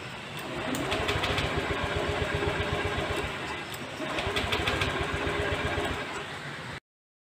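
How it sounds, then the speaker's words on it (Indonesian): A motorcycle engine with a suspected faulty ECU, after a new ignition coil was fitted, runs with a steady close clattering rumble that dips briefly midway and then cuts off abruptly. "Kita start mesinnya."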